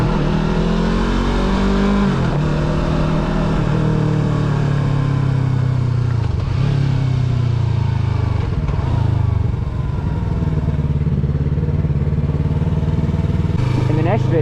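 A motorcycle engine revs and settles back toward idle while ridden, a steady loud drone rising and falling in pitch through the whole stretch, with occasional gear-change dips.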